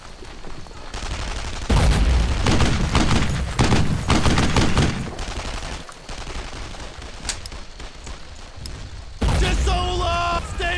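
Heavy WWII-style gunfire from Brothers in Arms rattles in dense, loud volleys and sustained bursts, easing briefly before another intense barrage, with shouted voices among the shots.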